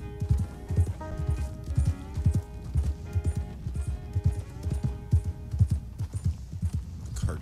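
Steady clip-clop of horse hooves walking at an even pace in Red Dead Redemption 2, close and clear, with a faint whinny and soft background music.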